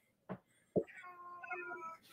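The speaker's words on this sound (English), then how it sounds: "No, go away, cat." A cat gives a drawn-out, wavering meow after a couple of short thumps or brief sounds, fairly close and quiet, with a faint noise trailing at the end.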